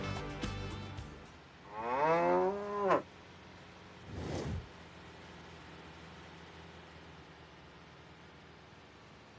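Cows moo in the Autobahn Police Simulator 3 video game, one long drawn-out low moo followed by a shorter second call, clear and close over quiet background noise.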